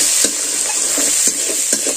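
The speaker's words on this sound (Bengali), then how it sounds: "এবার আমি এটাকে একটু ভালো করে নেড়ে চেড়ে ভেজে নিচ্ছি" Ginger paste and asafoetida stir-fried in a pan, a steady close sizzle broken by soft scraping stirs at an uneven rhythm.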